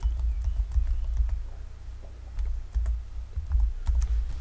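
Quick, close keystrokes on a computer keyboard tap out numbers in short irregular bursts, crisp and clear over a low background hum.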